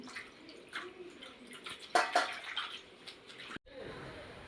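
Small bitter gourd leaves being rinsed in water in a kitchen, with soft splashing and dripping, a brief louder slosh midway, fairly quiet and close.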